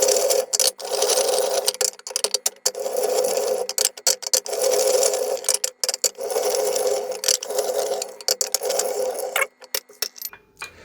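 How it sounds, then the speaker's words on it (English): A whiskey wisdom wheel spun by hand, giving a rapid ticking clatter in repeated bursts separated by short pauses, close and fairly loud, with no voices. "Grab our whiskey wisdom wheel so we can spin these up"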